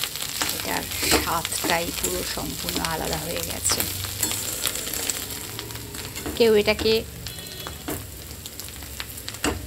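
Spiny gourd mash with poppy seeds fries in oil in a wok, giving a steady close sizzle with occasional stirring scrapes while someone talks over it.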